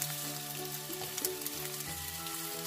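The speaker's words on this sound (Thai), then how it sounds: "ไข่เจียวดอกสโนว์อันนี้เป็นไข่เจียวดอกแครฝรั่ง" An omelette with West Indian pea flowers fries in a hot pan, giving a steady, close sizzle and crackle with a low hum running underneath.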